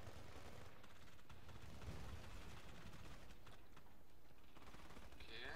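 Gunfire in the video game Battlefield Play4Free, a dense, continuous crackle of shots and distant battle noise at a low, steady level throughout, with faint voices.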